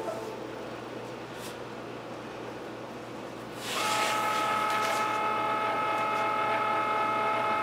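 A Cricut Maker cutting machine powers on: a low background hum steps up to a louder mechanical whir with a ratcheting, geared clatter and steady tonal whine that continues evenly, close by, with no talk.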